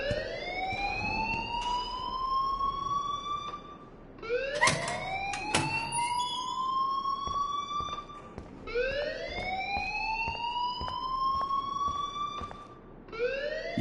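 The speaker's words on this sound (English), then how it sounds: "please turn off that alarm since that's your job" An alarm in the video game Life is Strange wails in repeated rising siren sweeps, loud and continuous, with brief clicks and bursts between cycles.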